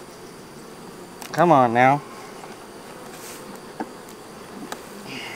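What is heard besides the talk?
honey bees buzzing around hive honey supers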